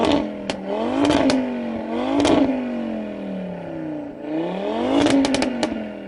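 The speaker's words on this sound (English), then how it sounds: "Audi RS3, can you rev your engine a bit please mate, so we can just enjoy its tone" An Audi RS3 with its 2.5-litre five-cylinder turbo engine and Audi sports exhaust revs hard at close range, rising and falling in three or four loud blips with crackles and pops between them.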